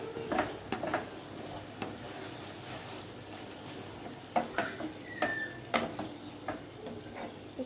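Spice masala for beef kofta curry frying in oil gives a quiet, steady sizzle broken by scattered ticks and clicks of stirring, with a faint tonal squeak partway through.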